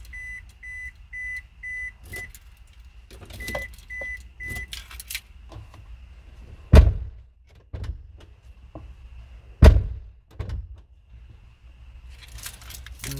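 Car door of a 2005 Scion xB shutting with a loud solid thunk, followed by a second door slam a few seconds later, with key jangling and a repeating electronic chime earlier on.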